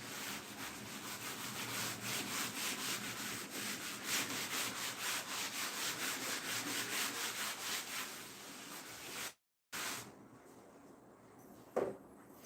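Rubbing writing off a classroom board, with steady rhythmic back-and-forth scrubbing strokes close by that stop abruptly, followed by faint room noise and a single soft knock.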